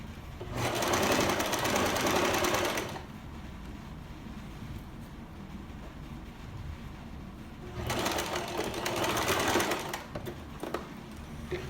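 A sewing machine stitching a blouse collar whirs loudly and close in two sustained runs, separated by a quieter stretch of room hum, with no voice.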